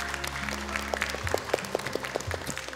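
Studio audience applause on an Indonesian Quran memorization competition show, steady clapping filling the clip at moderate level with a few sharper claps standing out, no talk over it.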